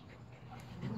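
A dog panting and whimpering close by during a tense encounter with a pit bull, breathy and continuous with a low whine swelling near the end.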